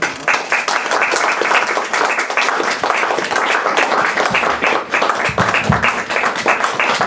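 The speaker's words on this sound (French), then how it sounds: "Je crois que les applaudissements peuvent continuer à les faire" An audience applauds at length after a lecture on French medical missions in Romania during and after the Great War, with dense, sustained clapping filling the hall at close range.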